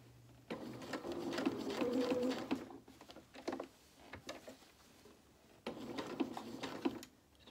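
Domestic sewing machine stitching T-shirt fabric for a small doll's dress, running in two steady whirring bursts with a pause between as the presser foot is lifted and the fabric turned.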